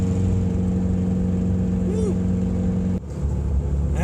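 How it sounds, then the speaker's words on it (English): A Subaru WRX with all-wheel drive spins its wheels in deep snow under throttle, producing a loud, close, droning engine hum with a rising whine. The sound breaks off abruptly partway through, then settles lower. "let's see if I give it some gas, you'll hear the wheel slip"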